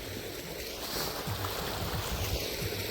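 Steady rushing water pours continuously from a hose watering vegetable plants outdoors, a broad hiss, with no talking.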